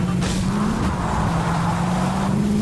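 A car drives in Fortnite, its engine holding a steady droning hum at close range with a couple of brief bumps and rattles along the way.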